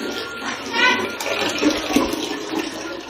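Water runs steadily from a tap into a one-litre container in a home kitchen, a loud continuous splashing rush close by, with a voice faintly mixed in.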